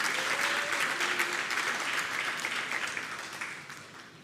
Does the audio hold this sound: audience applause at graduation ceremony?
yes